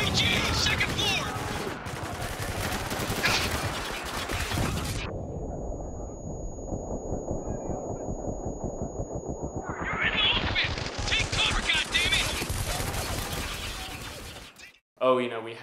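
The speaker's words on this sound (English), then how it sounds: "we have the M249 light machine gun" Rapid automatic fire from an M249 light machine gun in the Spec Ops: The Line video game, dense sustained bursts that pause midway and then resume, loud and close, with talk running underneath.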